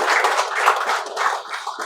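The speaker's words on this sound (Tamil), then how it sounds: "அவர்களுக்கு நமது கைத்தட்டர்களால் வாழ்த்து கிடைக்கும்" An audience at a Tamil speech event claps together in a short, busy burst of overlapping handclaps, fairly close and even in level, with no voices on top.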